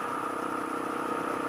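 A Honda XR400R motorcycle idles with a steady, even thump, close and loud, holding a constant note with no revving and no voices.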